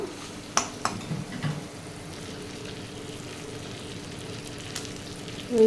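Chicken pieces frying on a low flame in ginger-garlic paste, salt and turmeric for chicken fried biryani, a soft continuous sizzle with a few utensil knocks early on, close and fairly quiet, with no talking.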